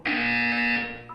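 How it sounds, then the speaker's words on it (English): A single loud, harsh electronic buzzer from the video game Portal 2 holds steady for about a second, then cuts off, with no voices over it. "You will hear a buzzer. When you hear the buzzer, look down at the floor."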